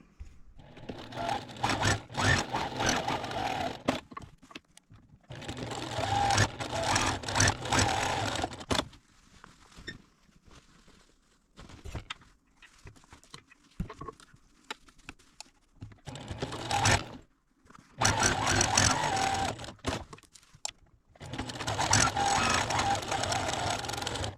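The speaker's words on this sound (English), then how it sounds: "So let's go to the sewing machine and do that." A sewing machine runs in several bursts of rapid stitching on a garment bag's seams, each lasting a few seconds, separated by short pauses and quieter handling noises.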